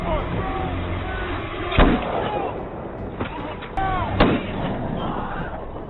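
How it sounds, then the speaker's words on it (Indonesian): Pistol gunshots in a film: a few sharp, loud bangs punctuate a busy soundtrack bed at irregular intervals, with the strongest two cracks spaced a couple of seconds apart. "Darby yang tersadar dari pingsannya langsung menembakkan pistolnya ke arah As"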